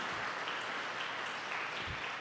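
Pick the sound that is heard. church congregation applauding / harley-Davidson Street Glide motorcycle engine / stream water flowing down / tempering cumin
church congregation applauding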